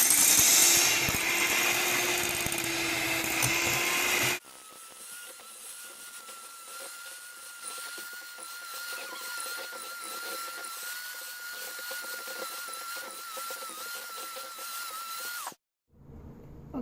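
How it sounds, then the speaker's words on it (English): Electric mixer creaming a stick of butter with sugar until fluffy, a loud steady motor whine that drops to a lower-pitched hum partway through, then cuts off briefly near the end. "then you gotta mix that until it's fluffy"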